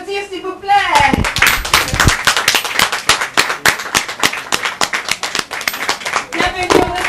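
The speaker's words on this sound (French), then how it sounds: "On va l'applaudir, s'il vous plaît." Audience at a Cameroonian-style welcome for Nathalie in a Paris restaurant on Avenue du Maine: after a brief voice, close, loud rhythmic clapping breaks out and continues steadily with individual claps audible, a voice returning near the end.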